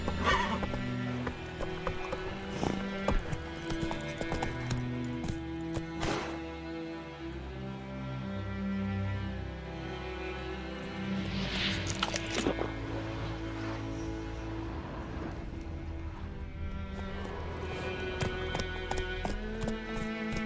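Horse in The Witcher 3: Wild Hunt galloping with steady, driving clip-clop hoofbeats and occasional neighs, layered over a continuous game soundtrack, loud and close throughout with no speech.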